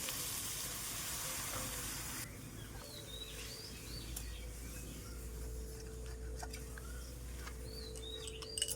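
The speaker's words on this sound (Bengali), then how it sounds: "এবার জল দিয়ে দেবো" Water is poured into a sizzling vegetable curry in a pan. A loud, bright sizzle cuts off abruptly into a quieter simmering hiss, while birds chirp faintly in the background.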